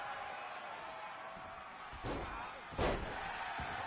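A wrestling monkey flip slam in the video game WWE 2K23 lands as two heavy thuds in quick succession over a constant arena crowd roar.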